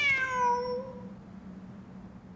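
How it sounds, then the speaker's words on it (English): A cat in Genshin Impact gives a single clear meow near the start, bright and rising, then fades out, leaving a faint steady hum beneath. "Wait, there it is! The cat!"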